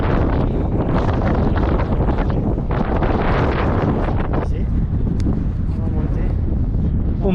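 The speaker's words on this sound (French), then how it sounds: "On prend le vent, on est au port de Roumazet et ça souffle" Strong wind at the Port de Roumazet mountain pass, with loud, steady gusts buffeting the microphone. A person talks under the roar.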